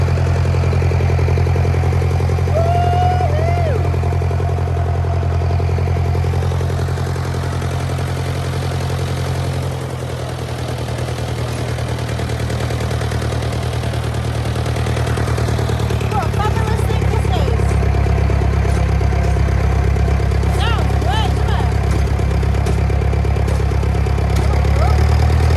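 Big red tractor engine running, recorded onboard: a loud, steady low-pitched diesel drone with mechanical clatter throughout, a slight dip in level midway, and voices occasionally talking over it.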